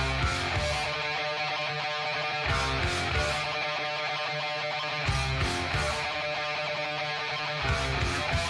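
An instrumental plays as a dense, loud rock recording of driving drums, bass and guitars, continuous with periodic accented hits and no talk.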